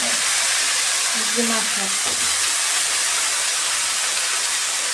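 Ghima greens sizzle as they hit a hot pan with green chillies in a village kitchen, a steady loud frying hiss running throughout, with someone speaking briefly over it near the start.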